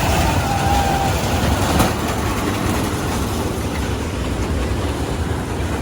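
A toy train runs along its track in a park, giving a steady rolling rumble with faint clatter that stays loud and continuous throughout, with no talking.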